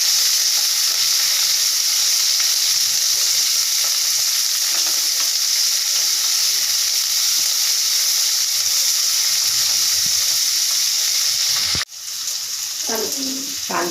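Chopped onion and a pinch of asafoetida sizzle steadily in hot oil for a home-cooked bean khichdi, a loud continuous frying hiss that breaks briefly near the end as the pan is stirred.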